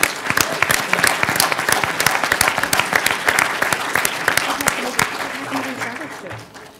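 A panel discussion audience at an MIT energy event in Boston claps in a loud, dense burst that holds steady and then gradually fades toward the end.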